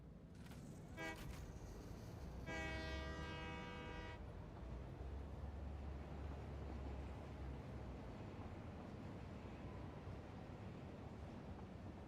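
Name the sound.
train running in video game Satisfactory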